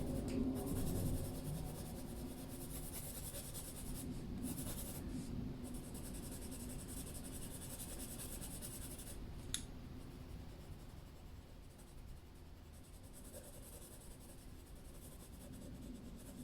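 Pencil coloring on paper gives continuous soft scratchy strokes, close and quiet, with the rhythm changing now and then over a steady hiss.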